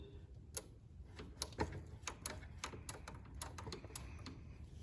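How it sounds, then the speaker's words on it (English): Faint, irregular mechanical clicking from the PTO safety switch on a Kubota BX2380 tractor, a run of small sharp ticks at close range with a low background hum and no talking. "That clicking is it coming off the safety switch."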